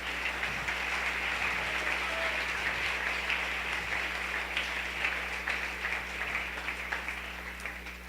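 A church congregation claps during a Sunday service, a steady sustained round of applause at moderate distance over a low constant hum, slowly easing toward the end.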